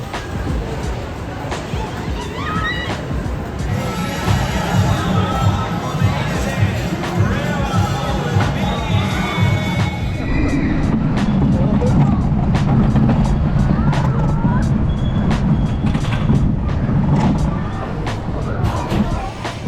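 A Gerstlauer bobsled roller coaster, Wilde Maus at Gröna Lund, rattles and rumbles along its track. The loud, continuous rolling roar is mixed with crowd noise and voices throughout the ride.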